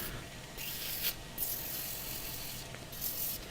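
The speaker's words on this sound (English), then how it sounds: "So try and keep the abrasive moving." Hand sanding of a turned pedestal bowl on the lathe faceplate with abrasive, a steady close whooshing rub broken by a few brief louder scrapes, with no talk.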